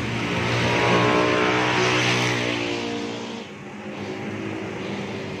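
A small Sekai electric fan with a freshly rewound motor runs at its top setting, speed 3, giving a loud, steady whir with a strong humming motor tone and airy rush that eases slightly midway, no voices over it.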